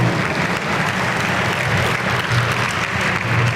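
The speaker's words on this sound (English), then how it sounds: "big round of applause" Warm applause from an event audience at a rotunda after a San Jose Taiko performance, a dense, steady clapping wash that holds at full strength throughout, with no voices over it.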